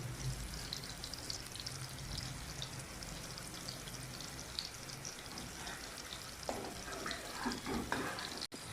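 Chicken kebabs sizzle and fry steadily in a pan, a dense, even crackle held at close range throughout, with faint clinks of cookware near the end.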